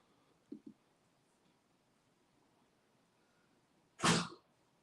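A single sudden, loud sneeze bursts out near the end of a quiet indoor stretch, after two small, brief earlier sounds.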